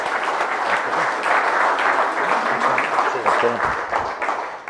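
Sustained audience applause at a leadership talk for a Melbourne Storm football director, a dense, steady wash of many hands clapping that carries for several seconds, with some voices mixed in toward the end.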